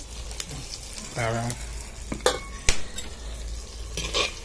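Soybeans frying in a little oil in a clay pot for soyabean khichdi, a soft hiss of sizzling broken by a few sharp clinks and scrapes of a spoon, with a brief bit of background voice.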